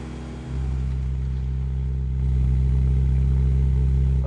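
A car engine idling at high revs, a steady loud drone that starts abruptly and steps up to a higher, stronger hum about halfway through, running alone without talk.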